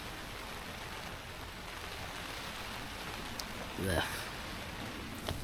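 Rain falls outdoors during stormy weather in the Peak District, a steady soft hiss of drops throughout, with one brief grunt from a person partway through.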